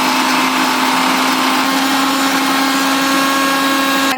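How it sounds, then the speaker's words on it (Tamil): A mixer grinder runs at full speed grinding ginger and garlic for a chicken curry, producing a loud, steady motor whine with a constant hum and no pauses. "இப்போ குழம்புக்கு தேவையான இஞ்சி பூண்டு அரைச்சிக்கலாம்"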